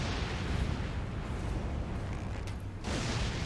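Barrels blowing up in Elden Ring, a loud continuous rumbling roar of explosions filling the whole stretch, with a brief dip and a fresh burst near the end.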